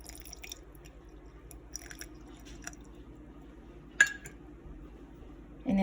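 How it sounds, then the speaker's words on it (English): A fork stirs flour and warm water for a sourdough starter, giving soft sparse scrapes and wet squishes with a sharp clink around the middle and a louder knock at the end. "I use a fork to stir it because it's easier to get to the bottom"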